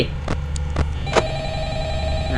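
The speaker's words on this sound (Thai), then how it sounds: "มีโทรศัพท์มาเหมือนเดิมนะ" A telephone rings in the horror video game Five Nights at Freddy's during night 4, a few ring bursts over a steady electronic hum, fairly close and alone without talk.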